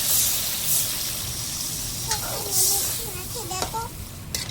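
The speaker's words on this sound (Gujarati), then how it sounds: "તો આપણે આમાં નાખવાનું છે પાણી" Water poured into hot oil in a pan while making a surmai fish dish gives a sharp, sustained hiss that fades and flares again, close by, as a person talks over it.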